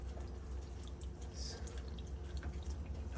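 Water runs and drips into an open, disconnected pipe end, a steady close trickle with small splashy drips over a low hum, no talking.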